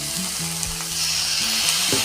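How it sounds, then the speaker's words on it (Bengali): Mushrooms and potatoes frying with a ground paste of cumin, coriander, ginger and garlic in a pan, giving a loud continuous sizzle with stirring scrapes, close up and with no talking. "মশলা আর আলু মাশরুম আমি সব একসাথে মিক্স করে ভেজে নিচ্ছি"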